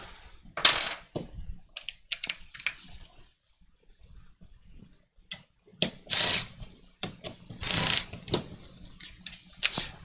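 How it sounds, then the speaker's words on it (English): Screws are tightened on the gantry of a VORON 2.4 3D printer, with sharp metallic clinks and ticks of a driver and bit in scattered bursts, close by, with quiet gaps between. "I'm going to tighten up these last couple of screws."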